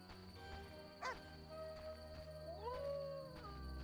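A dog howls in The Witcher: Enhanced Edition, a drawn-out rising and sliding wail near the end over steady game background music and ambience, with a brief sharper yelp earlier.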